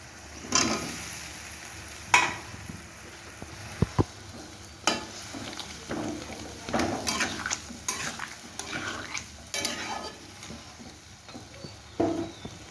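Fish roe fritters going into a simmering pan of curry, with scattered clinks and taps of utensils against the pan, gentle stirring scrapes and a faint bubbling underneath, fairly quiet and close.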